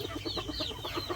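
A silkie hen gives a soft, rhythmic run of low clucks in quick succession, faint and close against quiet farmyard background.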